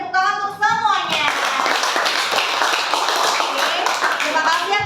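Students in a classroom clap together in a dense, steady burst that fills the clip after a brief opening voice, continuing loud and close throughout.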